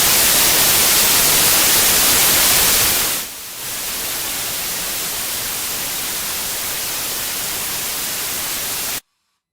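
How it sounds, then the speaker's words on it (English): Steady hiss of white noise like the masking sound played in a courtroom during sidebars, loud and unbroken for about nine seconds, with a brief dip near the middle before it resumes and then cuts off abruptly. "I'm going to play it for you right now. This is white noise."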